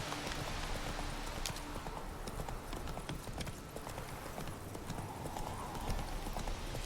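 Geralt's horse Roach clip-clops along in The Witcher 3, hooves striking in a quick steady rhythm over a busy game soundscape, fairly faint overall.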